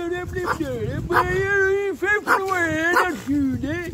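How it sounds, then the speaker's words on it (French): Dogs yip and whimper in rapid, high-pitched bursts close by, a string of excited barks and whines with hardly a pause. "Tu fais peur aux chiens, hein?"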